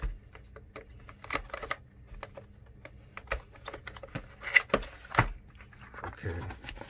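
Someone opens the packaging of a cheap RGB mechanical keyboard, with soft scattered clicks, taps and cardboard rustles nearby, some of them sharper, under faint talk.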